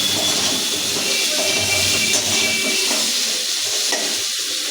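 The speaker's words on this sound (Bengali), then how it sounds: "বাদাম আলুটা ভেজে নিয়ে মশলা দিয়ে দেবো।" Small badam potatoes fry in a pan with a loud, continuous sizzle and steamy hiss, along with occasional stirring scrapes close by; no speech.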